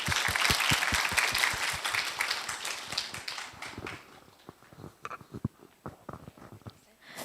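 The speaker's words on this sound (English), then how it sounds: "Please welcome them with a big round of applause." An audience at an English talk concert in Daegu breaks into a big round of applause for a student team, dense and loud at first, then thinning into scattered individual claps and fading out.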